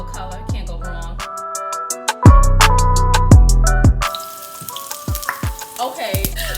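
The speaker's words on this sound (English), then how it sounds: "we add our peppers and onions. We're gonna throw the potatoes in there as well so they can all cook at the same time. And let them fry" Peppers, onions and potatoes frying together in hot oil give a crackling sizzle that grows into a steady hiss, partly covered by loud background music.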